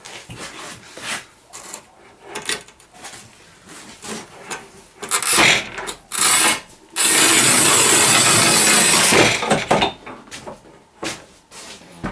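A manual tile cutter scoring and snapping thick porcelain stoneware tile, with irregular close scraping and clicking followed by a loud sustained grinding rasp of a few seconds, then more scattered clicks.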